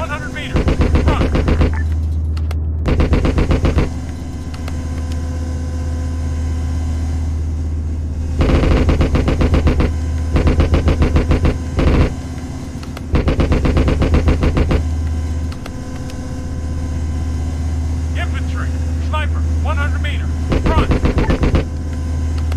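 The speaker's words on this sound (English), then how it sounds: "Machine gun." Rapid bursts of machine-gun fire ring out in a war zone, several loud sustained volleys separated by pauses, over a steady low engine-like drone, with faint voices in the background.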